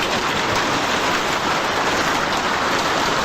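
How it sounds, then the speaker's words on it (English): A sudden hailstorm pounding roofs and cars, a dense, continuous hiss of ice striking hard surfaces, steady and loud throughout with no voices. "This sudden hailstorm caught everyone off guard, tearing roofs apart and leaving cars buried under piles of ice"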